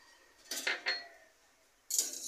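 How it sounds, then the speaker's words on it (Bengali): A metal wok clanks down onto a gas stove, two quick rattling knocks followed moments later by another clatter, quiet and close in a still room. "আমি এবার গ্যাস জ্বালিয়ে কড়া বসিয়ে এই ডালটাকে ভেজে নিচ্ছি।"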